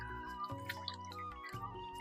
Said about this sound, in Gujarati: આ રીતે દબાવીને જેટલું પાણી નીકળે એટલું કાઢી દેવાનું છે.